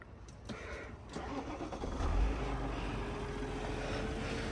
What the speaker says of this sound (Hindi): This is the cold start of this morning.